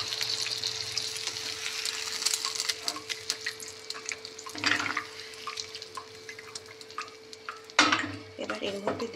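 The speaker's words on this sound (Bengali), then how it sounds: "এবার আমি জল দিয়ে দিচ্ছি।" Water goes into a simmering vegetable curry with sugar already added, bringing a softer bubbling hiss, scattered utensil clinks and a sharp splash-like burst late on, with a faint steady hum beneath.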